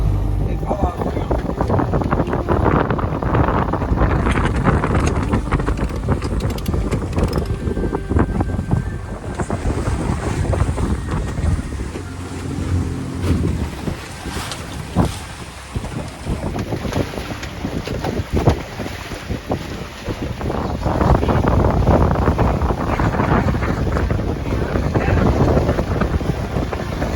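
Wind roars across the microphone on a sailboat heading upwind, with water rushing along the hull, loud and continuous throughout with gusty surges, and people talk now and then underneath.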